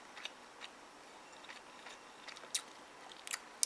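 Close, quiet chewing of noodles with three kinds of meatballs, soft wet bites and a few sharp crunchy clicks spread irregularly over a few seconds, no talking.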